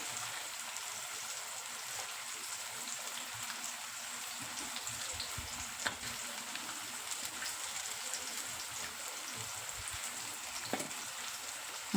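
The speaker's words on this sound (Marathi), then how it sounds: "तोपर्यंत आपला कांदा टमाटर परतून निघतंय" Onion and tomato sauté in a clay pot over a wood-fired chulha, giving a faint, steady, rain-like sizzle with occasional soft pops.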